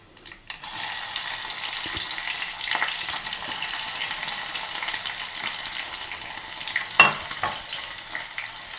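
Crushed garlic sizzles in hot oil as spices are tempered for a Telangana pesara pappu pachi charu, a loud steady frying hiss with a few stirring clinks and sharper crackles.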